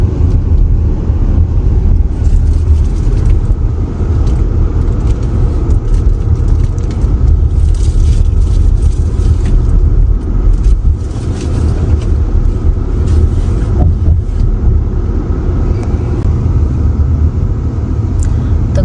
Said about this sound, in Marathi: गाडी आम्ही एका साईडला पार्क करतोय